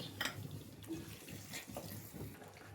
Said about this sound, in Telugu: ఇప్పుడు మీకు గ్రేవీకి సరిపడా కొన్ని వాటర్ పోసేసుకొని